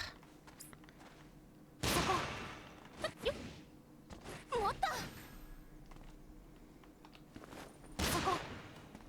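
Gunshots in Atelier Yumia: a few sharp, separated cracks and whooshing bursts spaced a couple of seconds apart, fairly close and loud against a quiet game background.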